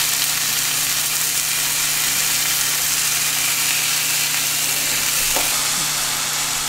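Sausages browning in a frying pan for a frittata, a steady dense sizzle close up throughout, with no break in the crackling hiss.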